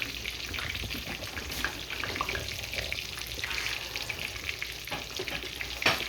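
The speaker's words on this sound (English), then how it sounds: "They're frying." Green tomatoes fry in hot oil under a splatter guard, giving a continuous close crackling sizzle with scattered sharper pops, steady throughout and with no talk.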